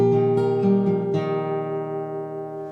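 A fingerstyle acoustic guitar plays a bridge bar from a song: a few plucked notes over a chord that rings on and slowly decays, close and fairly soft.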